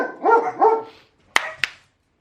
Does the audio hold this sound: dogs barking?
yes